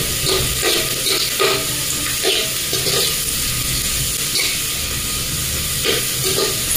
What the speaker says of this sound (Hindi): प्याज को ब्राउन होने देंगे अच्छे से